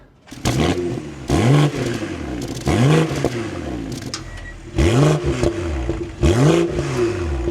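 A 2025 BMW X4 M40i fires up and is blipped repeatedly, five or six sharp revs rising and falling in quick succession over a steady idle, loud and close with crackles between throttle stabs, no one speaking.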